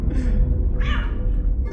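A cat meows twice in Lethal Company, the short cries rising over a steady low game hum, fairly close, with no talk.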